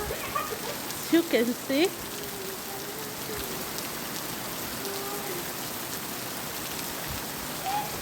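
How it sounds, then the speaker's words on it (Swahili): Rain falling outdoors, a steady hissing patter that runs through the whole stretch, with someone talking briefly early on over it. "It's raining."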